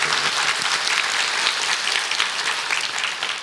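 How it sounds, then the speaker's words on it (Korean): Congregation applause during a church mission-school sermon, a continuous wash of many hands clapping at an even level, no speech over it. "박수 쳐야 되는 거 아니에요?"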